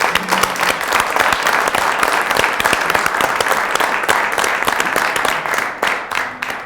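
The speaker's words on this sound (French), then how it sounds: "Je crois qu'on peut vous applaudir." Studio audience on a French television show applauding, a dense, loud burst of clapping that holds steady for several seconds before tapering slightly, with a faint voice briefly beneath it.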